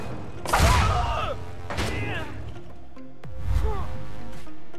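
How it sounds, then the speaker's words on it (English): In the Trials Rising video game, explosions set off by a rider bailout produce three sharp bursts, each a loud boom followed by a fading rumble, with brief pauses between them. "let's set bailout to set off an explosion"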